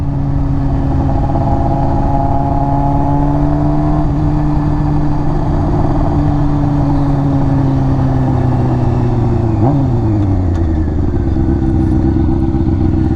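A Honda F4i motorcycle fitted with a Radiant Cycles Shorty GP exhaust, a loud close engine drone that holds steady while riding, then shifts pitch sharply near the end.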